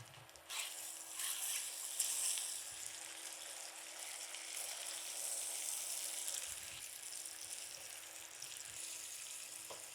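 Lobster pieces sizzle in a pan with butter, cayenne and curry, a steady, fairly quiet hiss and crackle of frying that swells slightly at moments, heard alone without speech.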